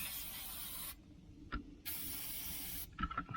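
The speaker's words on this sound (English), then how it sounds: "let's spray some. Put some slickum on it." Liquid Wrench penetrating oil is sprayed onto nuts on an Army 6x6 truck in two long aerosol hisses, each about a second, close and bright, with small metallic clicks and handling noises between and after.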